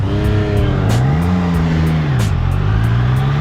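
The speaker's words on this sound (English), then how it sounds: "We are test riding a Daytona 660." A Triumph Daytona 660 motorcycle engine drones loudly and close, its pitch rising and falling as it revs, with a rhythmic ticking pattern over the steady engine note.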